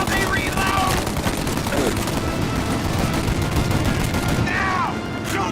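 Sustained gunfire in a Mafia video game shootout: dense, continuous rapid shots and bursts for several seconds, loud and close, with brief shouted voices breaking through.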